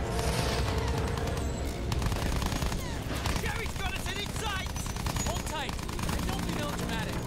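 Rapid rifle and machine-gun fire with scattered booms rattles without pause through a Battlefield 1 air battle, loud and dense, while voices shout over the fighting.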